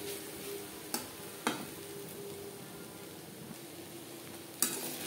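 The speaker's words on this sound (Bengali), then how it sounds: "নারকেলের সাথে কাঁকরোল আরও 3-4 মিনিট নাড়াচাড়া করে নেব।" Teasel gourd is stirred with coconut in a pan over a medium flame, giving a soft, steady scraping and faint sizzle with a few sharp utensil clicks against the pan.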